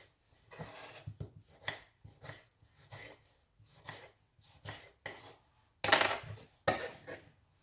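A knife chops through two medium-sized tomatoes on a board, a steady series of close, crisp cuts with a couple of louder, sharper strikes near the end.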